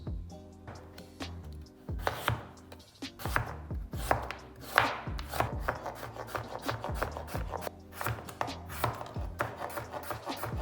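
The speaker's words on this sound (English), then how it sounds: "We start with carrots, onion, celery, and we cut all these in small pieces, very small, like Bruno ones." Carrots, onion and celery are chopped into small pieces with a knife on a board for ragù, producing rapid, irregular close chopping taps with some scraping, steady for the whole stretch without speech.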